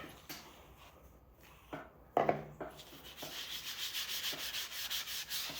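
Abrasive paste is rubbed onto a turned pecan wood bowl, heard as soft, close scuffing and rubbing strokes that grow into a steady rhythmic swish after a few knocks.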